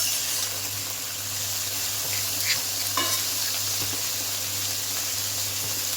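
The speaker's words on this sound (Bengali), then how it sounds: "আমি কিন্তু ঝিঙে খোসার ভর্তা এবার আমি ভালোভাবে ভেজে নেব" Ridge gourd peels fry in a pan with a constant crackling sizzle. Now and then a spatula scrapes and clinks while they are stirred, and a low steady hum runs underneath.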